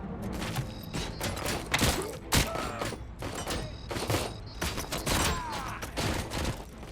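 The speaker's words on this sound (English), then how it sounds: "Oh, that's a grenade." A grenade blast in Robocop: Rogue City, a heavy thump among dense bursts of gunfire and mechanical clatter, loud and close, with a few separate booming hits.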